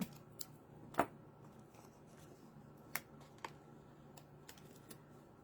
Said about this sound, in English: Snip that.